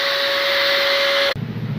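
A pet blower drying a dog after a bath gives a loud, steady whooshing roar with a high whine, close up, and then shifts abruptly to a lower rushing tone.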